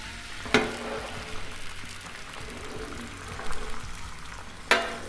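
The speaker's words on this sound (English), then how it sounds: "Let's throw these scrambled eggs right over here." Scrambled eggs fry on a Blackstone flat-top griddle with butter, a steady crackling sizzle punctuated by two sharp spatula scrapes across the metal, no voices.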